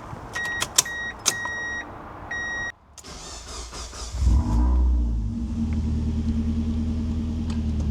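A project car's engine cranks and catches after a few electric clicks and whirs, then settles into a rough, uneven idle that rumbles close by, sounding near to stalling.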